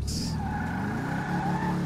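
A car oversteers and slides, its tires squealing in a sustained high whine over a steady engine drone for about two seconds, with a brief sharper screech at the start.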